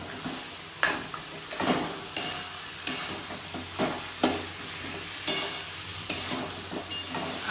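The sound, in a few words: fish heads frying with spices in a pan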